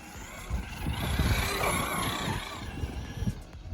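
A Traxxas Maxx V2 RC truck drives across a loose snow track, its motor whirring steadily at moderate volume, with scuffing and churning noise that rises and falls over a few seconds.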